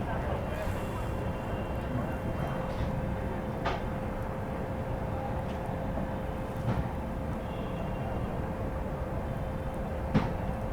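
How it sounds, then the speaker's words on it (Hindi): The 12226 Kaifiyaat SF Express pulls out of Ayodhya Dham Junction on a foggy day, a continuous low rumble with faint rail clicks and a few sharper knocks, heard from on board at steady volume. "निकल चुकी है अपनी कैफियत एक्सप्रेस अयोध्या धाम जंक्शन से"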